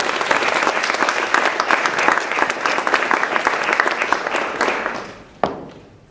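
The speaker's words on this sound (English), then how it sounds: "Can we have a round of applause, please?" A large audience at a graduation ceremony breaks into loud, dense applause that carries on for about five seconds, then fades. A single sharp knock sounds just before the end.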